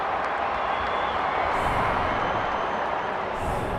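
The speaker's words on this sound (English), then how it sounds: "The crowd already making plenty of noise as the captains come together in the middle." Crowd at an AFLW final roaring steadily as the captains meet in the middle, a dense, continuous wall of cheering and chatter with some clapping, heard from within the stands.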